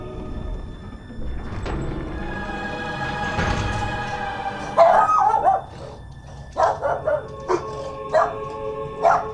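Dogs barking in the Fable III video game: a series of loud, sharp barks and yips close by, coming in quick bursts in the second half after a quieter stretch of ambient game sound.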